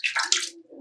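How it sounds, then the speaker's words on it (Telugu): Water seeps out from beneath a Shiva linga in a cave temple at Bhairavakona, giving two quick, close splashy drips and a soft trickle. "సో కింద శివలింగంలో నుంచి వాటర్ వస్తా ఉంటాయి"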